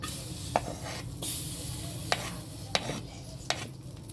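Butter sizzling in a hot wok before onions go in for squid adobo, a soft steady fry under a few sharp clicks and scrapes of a utensil stirring in the pan, with no voices.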